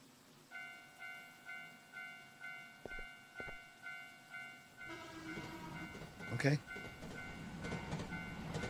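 A train in the Teke Teke Japanese urban-legend horror game: a repeating tonal chime pulses, then a rising rumble swells with a sharp loud burst near the middle and rolling clatter after, as a voice briefly speaks.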